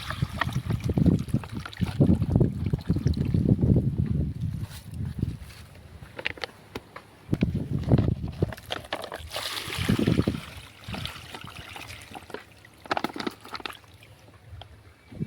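Water flowing and splashing while farm fruit trees such as custard apple are irrigated, a steady trickle and slosh close by, rising in bursts and fading, with no talk.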